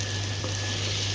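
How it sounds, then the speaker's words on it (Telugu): Spices and chopped snake gourd fry in a pan for a Telugu-style curry, giving a steady, close sizzle that stays even throughout with no voices. "ఇవన్నీ మంచిగా ఒక 10-15 నిమిషాల పాటు ఫ్రై చేసుకుంటూ ఉండాలి."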